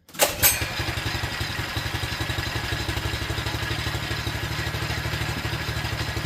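A Honda GX160 go-kart engine cranks and catches with a brief loud burst, then settles into a steady, rapid, even idle throb that holds close and unchanged to the end, with no talk over it.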